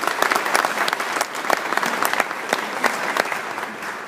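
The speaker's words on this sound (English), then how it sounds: "I think we need another round of applause for them" Audience applause at a hall of fame ceremony: a steady, dense clapping from a large crowd, fairly close and even throughout, with no talk over it.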